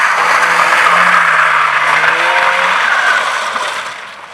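A drift car skids with sustained tire squeal over a loud, steady engine roar, easing off and fading slightly toward the end.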